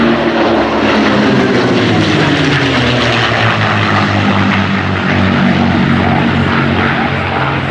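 A P-38 twin-engine propeller aircraft roars loudly overhead at the Duxford Flying Legends air show, its engine drone rising and falling in pitch as it passes nearby.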